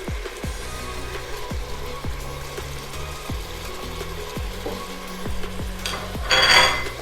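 Red chilies, coriander powder, cumin powder, turmeric and salt fry in a pan with a steady sizzle. A spoon scrapes the pan in regular strokes, a little under one per second, and a louder hiss swells near the end.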